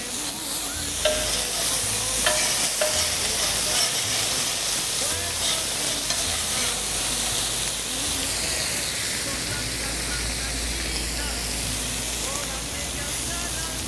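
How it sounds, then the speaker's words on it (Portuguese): Onion and garlic fry in a pan with a steady, bright sizzle and hiss, broken by occasional stirring scrapes, continuous throughout at moderate volume. "Já está começando a dourar a cebola e o alho."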